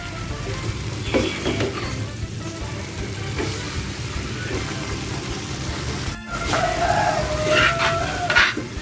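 Pumpkin dish frying in a pan while being stirred, a steady sizzle with scraping of the utensil and a few sharper clinks near the end, close and moderately loud.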